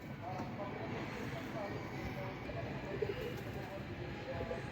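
Domestic pigeons around a rooftop loft in Bangladesh, cooing in a faint, continuous low murmur over a dull background rumble.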